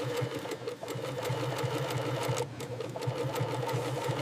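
An industrial sewing machine stitches Nike T-shirts in a factory with a fast, steady mechanical chatter of needle strokes, loud and close, running continuously.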